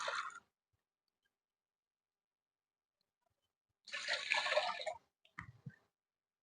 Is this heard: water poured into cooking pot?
yes